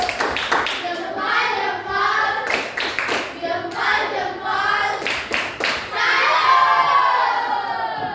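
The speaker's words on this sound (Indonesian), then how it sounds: "Beri dulu tepuk salut untuk kelompok 1" Children in a classroom clap together in a patterned rhythmic chant, mixed with shouting and cheering voices, ending in a burst of loud applause.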